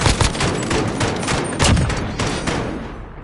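Gunfire in a search-and-destroy round of a first-person shooter video game, with a rapid loud burst of shots at close range and some shots coming through a ceiling, with no talking over it.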